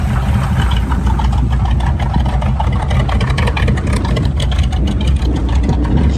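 A truck engine idles steadily and smoothly, a continuous loud low rumble with a faint mechanical clatter throughout.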